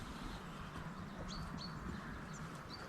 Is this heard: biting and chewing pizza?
no